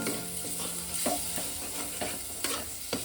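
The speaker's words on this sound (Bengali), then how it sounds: "দিয়ে ভালো করে একটু মিনিট 2-3 ভালো করে আর একটু নাড়াচাড়া করে ভেজে নেব।" Prawns and figs stir-fry in a pan, giving a steady sizzle with scraping stir strokes and occasional spatula knocks against the metal, close and moderately loud with no talking.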